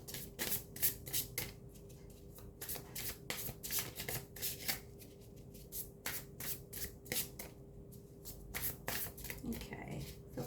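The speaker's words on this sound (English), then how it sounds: "I'm going to shuffle from the Animal Spirit card and pull a card from this." Animal Spirit oracle cards are shuffled by hand in a quiet room, giving a fast run of crisp, close card slaps and riffles at an uneven rhythm over a faint steady hum.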